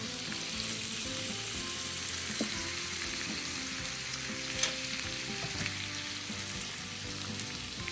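Beef and hotdogs sizzle steadily in a pan, a dense continuous fry with occasional clicks and scrapes of stirring, close and fairly loud, no talk.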